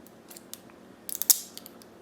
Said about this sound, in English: Get my scissors out here.